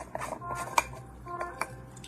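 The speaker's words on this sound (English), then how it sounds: "I'm just going to tap a little bit into the lid" A jar of By Terry hyaluronic acid translucent powder is tapped against its lid, giving a few light, close clicks and knocks spaced apart amid quiet handling.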